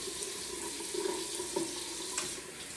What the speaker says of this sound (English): Let's get some warm water going, and we'll get started.